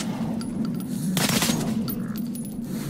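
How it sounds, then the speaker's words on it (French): A rapid burst of gunfire in the video game Metro: Last Light crackles for a moment over a steady low hum, with faint scattered pops around it. "Oh, j'entends des coups de feu."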